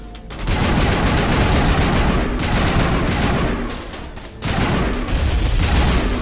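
Sustained, heavy gunfire in the video game Mass Effect: dense, continuous bursts of loud automatic shots that briefly ease off, then resume at full intensity.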